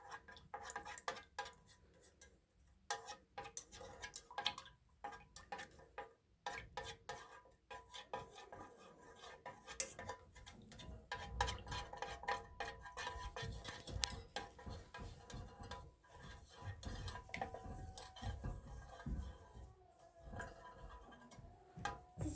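Quiet, continuous scraping and clinking of a utensil against a pot while stirring a melted beeswax candle mixture with fir and orange essential oils, with no talking.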